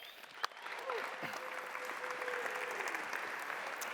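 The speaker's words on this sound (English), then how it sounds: "help me get a warm round of applause for Tim Kang" Audience applause at a talk, a broad wash of clapping that follows one sharp clap and keeps going evenly for the whole stretch, moderately distant and steady, with no voices over it.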